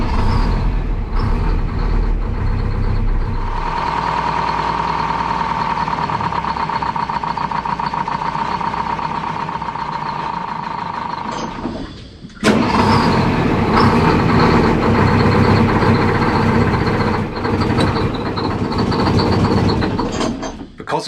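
A boat's inboard engine, just fitted with a new alternator and suffering a fuel supply problem, runs loud and close with a rough steady drone and hum, cuts out briefly, then roars back and keeps running.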